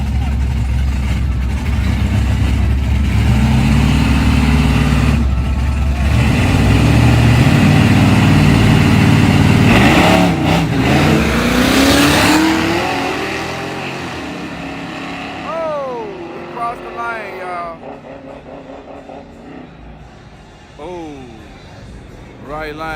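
Drag race cars rumble and rev at a dragstrip grudge race, a loud, deep engine roar for about twelve seconds that then fades, with people talking over it throughout.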